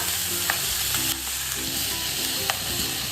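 Chivai leafy vegetables being mixed in a pan over low gas, a steady gentle sizzle with a few light scraping stirs, close and even, no speech.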